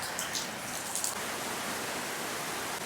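Heavy rain pours steadily with wind, a dense, even hiss of drops close by, with a few brighter patters near the start.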